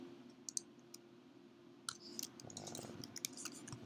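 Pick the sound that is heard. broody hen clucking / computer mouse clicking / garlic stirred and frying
computer mouse clicking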